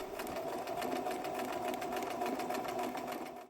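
A sewing machine hums steadily while zig zag stitching through a corner turn with the needle on the outside edge, a close, continuous mechanical whir with quick rhythmic needle pulses throughout.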